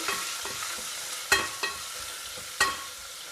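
Peeled sambar baby onions fry lightly in oil with dry red chillies, a gentle steady sizzle broken by a few sharp spoon scrapes and clinks against the pan.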